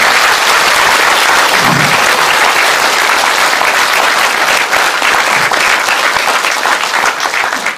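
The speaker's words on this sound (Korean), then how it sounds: "많이 참석하신 분들에게 감사 박수 한번 보내주시면 고맙겠습니다" Loud, continuous applause from a congregation at a Buddhist dharma service, many hands clapping together in a thick, even roar that holds for nearly eight seconds.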